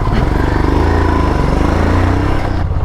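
A motorcycle engine idles and pulls away on a Kathmandu street, a loud, close, steady rumbling drone that holds throughout and fades slightly at the end.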